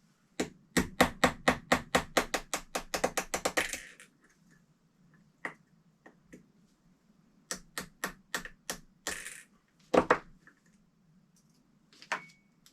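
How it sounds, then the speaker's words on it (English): A rapid run of sharp metallic taps from an armorer's hammer on a punch driving out rifle trigger pins, then scattered single strikes and short bursts after a pause, close and crisp against a quiet low hum. "I'm just going to use a punch and my armorer's hammer."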